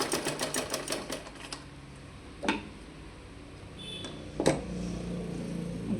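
Sewing machine stitching a round neck facing on fabric, with a rapid run of close stitching bursts at the start, then quieter pauses broken by a few sharp clicks.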